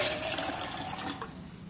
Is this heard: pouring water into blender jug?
yes